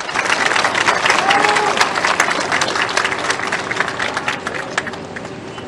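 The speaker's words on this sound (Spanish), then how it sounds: "Para él, por favor, un fuerte aplauso." An audience at the inauguration of a lithium carbonate industrial plant applauds the governor of Potosí with a thick, loud burst of clapping and crowd noise that gradually thins out.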